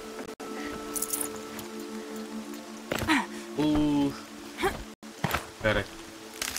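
Steady rain hisses softly in the video game Horizon Zero Dawn, a constant wash running beneath a character's voice that speaks over it for much of the time.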